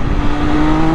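The engine of an MV Agusta Enduro Veloce motorcycle gurgles on a light throttle blip in neutral, a loud close rumble with a steady low drone that sounds like a race bike, with no voices.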